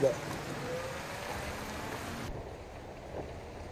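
Sudden rain in an outdoor scene of an Indonesian horror film, a steady hiss of falling rain that holds constant and drops in brightness partway through, with faint voices underneath.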